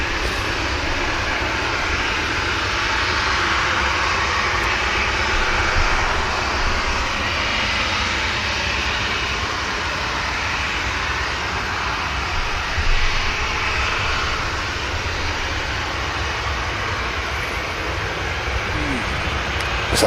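An EasyJet airliner rolling out after landing at Manchester Airport, a steady broad jet engine rumble and rush from a distance, continuous and fairly loud with no voices.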